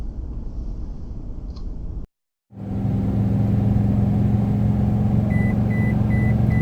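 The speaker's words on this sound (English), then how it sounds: "I'm over the line right now and it just beeped for me. So the lane departure radar is still fully functional." The lane departure radar on a Toyota Tundra with a 6-inch FABTECH lift gives a run of evenly spaced electronic beeps over a steady cabin engine and road rumble, after a brief drop in sound.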